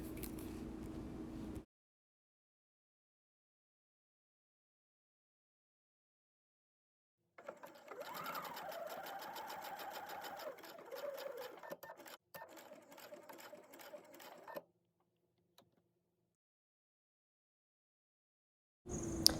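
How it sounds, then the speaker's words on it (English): A sewing machine stitches Velcro onto the end of an apron necktie, running in two bursts with silent gaps around them, the second burst a steady mechanical whir lasting several seconds. "Once I made sure it fit, I took it over to my machine and stitched it down."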